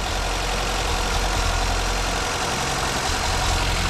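A Honda Civic 1.5 liter engine with a new carburetor idles close by, giving a steady, even mechanical drone with a faint underlying knock and no voices.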